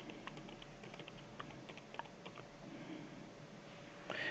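Keys clatter on a computer keyboard in short bursts of quick taps, faint and close against a quiet room hum, with no talking.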